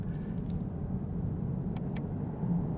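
A 2018 Chevrolet Camaro engine idles with a low, steady rumble as the car is put into drive, with a couple of faint clicks over the continuous drone; no speech.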